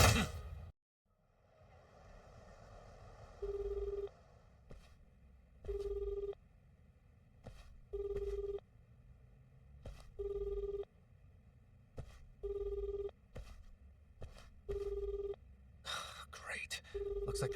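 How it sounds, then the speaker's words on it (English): A phone call fails to connect in the video game Yakuza Like a Dragon Infinite Wealth, with evenly spaced ringback-style tones repeating about every two seconds over a low background hum. "like they turned off Kiryu-san's phone"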